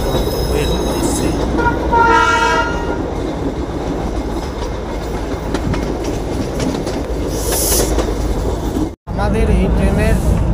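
The Darjeeling toy train runs on the narrow-gauge line from NJP, with loud continuous rattling and clatter of wheels and carriages, a tonal horn toot early on, a brief cut near the end, and voices faintly in the background.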